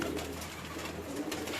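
Pigeons being carried out of their loft give low, throaty coos close by, repeated rounded calls over a steady background murmur with no clear speech.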